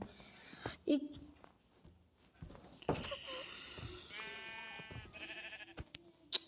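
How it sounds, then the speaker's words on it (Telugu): Video game goats bleat a few times, with a drawn-out cry near the end, mixed with game clicks and brief talking. "ఇక్కడ మేకలు ఉంటాయి. మేకలు"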